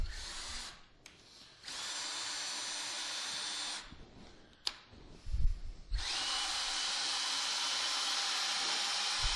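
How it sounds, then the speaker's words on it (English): A handheld power drill whirs as it spins the ball screw of a PrintNC CNC machine's Y-axis, with steady high-pitched bursts broken by brief pauses and a few knocks from handling nearby. "you can just chuck a drill on the end of this ball screw"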